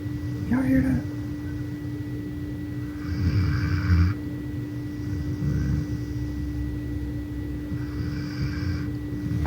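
A person snores while asleep, slow low rasping breaths repeating every couple of seconds under a steady hum and room noise, moderately near.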